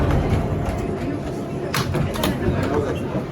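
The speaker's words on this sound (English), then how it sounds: "This is a 34th Street Hudson Yards bound 7th train." An R188 New York City subway 7 train running between Mets-Willets Point and Times Square, a steady rumbling ride noise with occasional rattles and clacks, with voices chattering over it.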